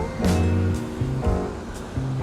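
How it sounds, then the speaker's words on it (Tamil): Floodwater after heavy rain in Avadi rushes over a bridge in a loud, continuous roar, with low rumbling tones underneath and no voices. "ஆவடியில் மழை பெய்ஞ்சதுனால எப்படி தண்ணி போகுது பாருங்க ஃப்ரெண்ட்ஸ்"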